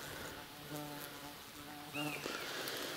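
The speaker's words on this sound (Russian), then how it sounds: "Вот еще пчелка." Honeybees buzz around a beginner's hives outdoors, a steady close hum with wavering pitch that swells as a bee passes near the microphone, and no talking.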